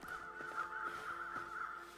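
Crows caw repeatedly in a snowy wilderness survival video game on Interloper difficulty, harsh calls recurring steadily over a constant wind-like backdrop, fairly loud and alone with no talk.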